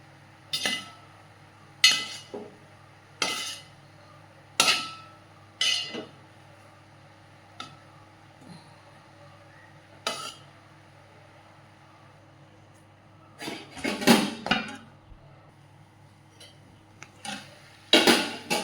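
Green chillies, curry leaves and coconut are pounded in a vessel, giving sharp knocking thuds at a slow, irregular pace over quiet background hum, ending with a denser cluster of clattering strikes.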